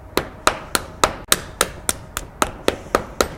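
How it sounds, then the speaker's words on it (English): A hammer knocking on the frontal bone of a skull during an orbit dissection, twelve sharp, evenly spaced taps at a steady rhythm, close and clear with no talk. "take a hammer and knock on the frontal bone and break it into small pieces"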